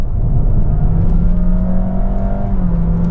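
Honda Vezel (HR-V) with a CVT pulling out of a corner, engine drone held at a steady pitch with a smooth whirring hum from inside the cabin, loud and continuous.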